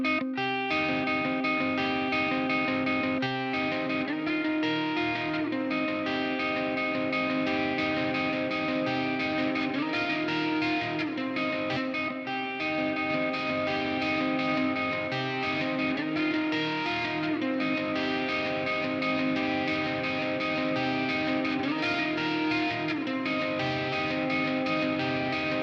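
Electric guitar mix with compressor engaged and chorus, delay and reverb pedals switched off, playing steady distorted chords and riffs loudly and continuously throughout.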